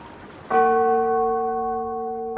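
A single bell strikes loudly and rings out with a clear sustained tone that slowly fades, and a second strike comes at the very end.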